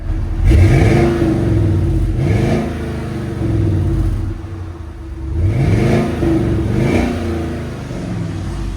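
A Chevy Suburban with a 5.3L V8 and aftermarket mufflers revs in repeated bursts, each climbing then falling away, with a muffled throaty drone between pulls, heard close and loud.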